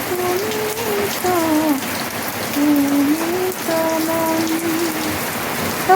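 Steady rain pours down in a constant dense hiss, with a faint tonal line drifting through the background and no speech.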